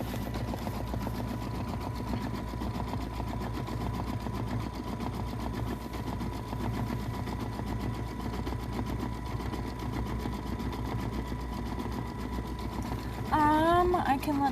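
A serger stitches the edge of a towel with a fast, steady mechanical whir and rapid rhythmic clatter, running continuously; a voice briefly comes in near the end.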